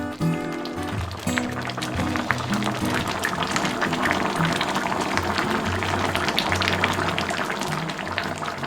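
Braised cutlassfish with sweet potato stems simmering in a covered pot over medium-low heat, a steady bubbling, sizzling hiss that holds close and even throughout with no voices.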